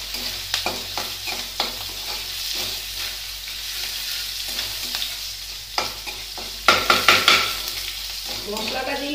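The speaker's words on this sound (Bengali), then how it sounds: "মশলাটাকে ভেজে নিই।" Spices fry in a pan for a potato curry with asafoetida, a steady sizzle punctuated by sharp spatula scrapes and taps on the pan, with a burst of quick scraping strokes near the end.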